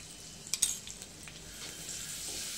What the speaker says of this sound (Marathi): आता हे किती हे मिनटं आई फ्राय करायचं?